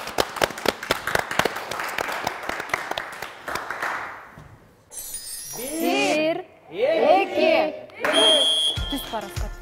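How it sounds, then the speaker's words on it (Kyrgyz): A studio audience on a Kyrgyz family game show claps. Brisk, crisp applause lasts about four seconds and fades out, and then people start talking. "Баштадык анда, кол чабуулар."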